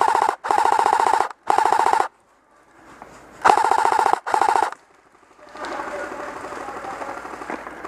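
Airsoft gun fired in bursts at a fence during an outdoor airsoft game: three sharp rattling volleys, a short pause, then two more, followed by steady background noise.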